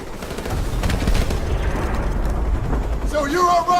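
Heavy battle in Call of Duty Modern Warfare, with a dense roar of gunfire and blasts under shouted voices, ending in a brief electronic beeping tone.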